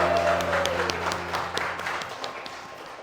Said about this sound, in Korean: 다시 한번 하나님께 박수를 드리겠습니다.